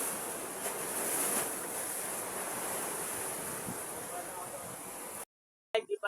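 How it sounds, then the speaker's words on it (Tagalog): Strong sea waves during a typhoon roll and crash in a broad, rushing surge with wind buffeting the microphone, then the sound cuts out abruptly near the end. "Hindi pala kaya, malakas ang alon."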